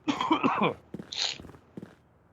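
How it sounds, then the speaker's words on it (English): A person coughs several times in short, rough bursts, fairly close and moderately loud, with brief pauses between the coughs. "there's just going to be a lot of coughing tonight"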